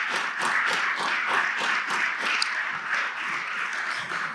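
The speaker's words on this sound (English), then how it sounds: "So can we give them a big round of applause?" An audience at a welcome and introduction event gives a round of applause, with individual claps audible in a moderate, steady patter that continues without speech.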